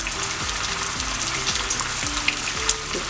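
Meatballs fry in a pan, a loud, steady sizzle close up, with scraping strokes as they are turned over and over throughout.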